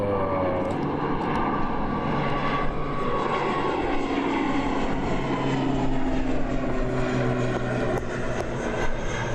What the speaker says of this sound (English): Awesome shot there of the ATR. Landing gear shot, beautiful.